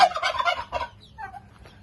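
Turkeys on a Philippine farm let out a rapid, warbling gobble close by, followed by fainter, scattered calls as the flock quiets.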